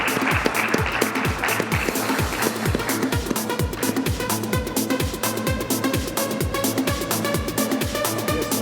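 An audience applauds after a panel discussion on digital claims management, dense steady clapping that holds at an even level for the whole stretch.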